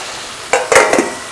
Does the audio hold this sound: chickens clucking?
no